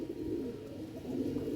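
A pigeon coos close by in a steady low, throaty murmur that continues without a break, with no talking over it.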